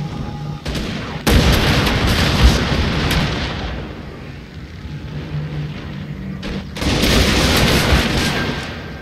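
Gunfire and artillery in a Shogun 2 battle between Joseon and Ming armies: loud massed volleys and booming blasts, a heavy burst early, a slow fade, then a fresh thunderous salvo near the end.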